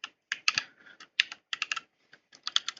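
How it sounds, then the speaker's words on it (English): A username being typed on a computer keyboard, close and crisp, with bursts of quick key clicks separated by short pauses and no talking. "When it's done, I just need to type my user."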